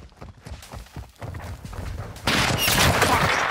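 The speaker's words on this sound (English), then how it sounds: "Man down! AQ sniper on the roof!" Sniper fire and battle noise in Call of Duty: Modern Warfare II, a 2022 game, with a building assault under way: scattered thuds and shots grow into a loud, dense burst of gunfire and debris.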